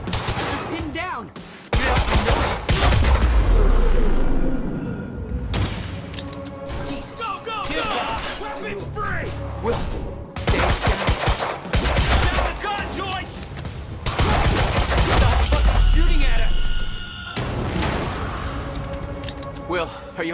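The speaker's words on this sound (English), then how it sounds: "Target's armed. Opening fire!" Bursts of automatic gunfire from armed gunmen in the video game Quantum Break, loud rapid volleys coming in several waves with short pauses between, with voices and game effects mixed in.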